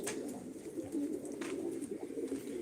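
Pigeons coo softly at a bird auction, a low, repeated throaty burbling close by over a faint room background.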